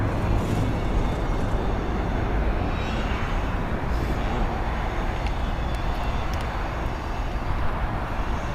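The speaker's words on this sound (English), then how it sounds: "Departing here is United Airlines" United Airlines flight 1482 departing LAX, a steady broad jet engine roar held at constant loudness throughout, heard from a distance with no talk.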